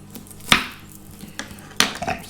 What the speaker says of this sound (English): I'm going to chop them just into little bits